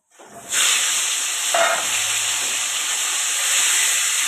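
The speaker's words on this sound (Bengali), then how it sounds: "আমি আগে আলু পটলের তরকারিটা চাপাই" Potato and pointed gourd curry starts cooking in a pan, giving a steady, close hiss and sizzle that holds from start to finish, with a faint stir partway through.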